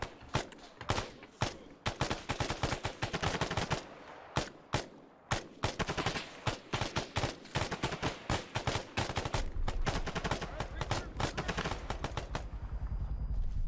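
Sustained gunfire in ArmA 3, rapid bursts of shots and machine-gun fire cracking close and loud, with gaps between volleys and a thicker continuous barrage toward the end.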